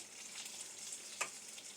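Soft, continuous sizzling and bubbling from a pot of soup on the stove, steady and close, with one brief clink partway through.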